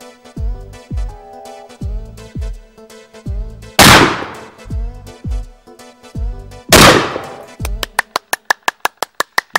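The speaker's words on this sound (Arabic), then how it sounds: "سمعت صوت اطلاق النار؟" Two loud, sharp gunshot-like blasts stand out amid a series of low thumping knocks, followed by a fast run of crisp clicks near the end.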